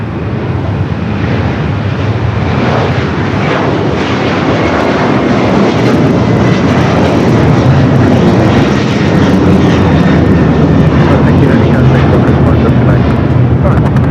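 A heavy jet lands on runway 25 left at Los Angeles International Airport, its engines a loud, steady, broadband roar that fills the whole stretch without a break.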